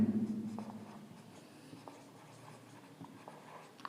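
A pen writing out a trigonometry table on paper makes a soft, continuous scratching close up, with faint strokes over a steady low background hum.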